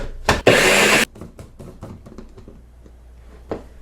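Cheese and pork rinds for keto tamales are blitzed together in a blender or food processor, heard as a loud, short burst of motor whir followed by quieter scraping and knocking with a few soft clicks.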